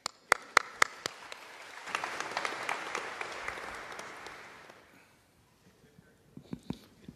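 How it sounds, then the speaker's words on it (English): An audience bursts into applause at an Indiana Pacers press conference with Victor Oladipo; the clapping swells for a few seconds and fades. Sharp, isolated clicks come before and after it. "give yourselves a round of applause again"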